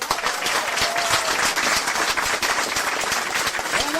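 A festival audience applauds volunteers at a first-edition wool festival in Castellane, a dense, steady wash of clapping hands filling the whole stretch at close range, with no speech over it.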